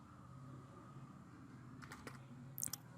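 Quiet computer keystrokes during a spreadsheet formula entry, mostly soft with a few brief, sharper clicks near the end, including a small cluster of rapid taps over a low background hum.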